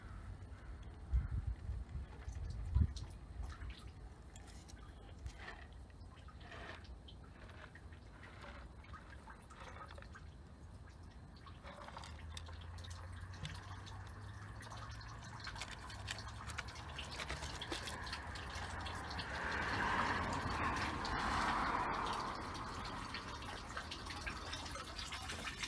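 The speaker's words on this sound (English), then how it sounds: "It might not be strong enough, but at least the water's coming out." Water trickling and dripping out of a bell siphon pipe in a stock tank aquaponics grow bed filled with lava rock, faint scattered drips growing into a steadier gurgling flow toward the end, with light background noise.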